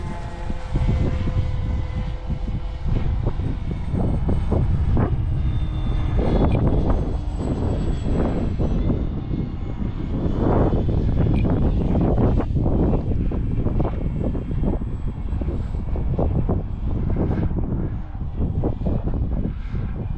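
A propeller airplane engine drones steadily in flight from inside the cabin, a loud continuous rumble with rhythmic throbbing pulses and buffeting wind noise throughout.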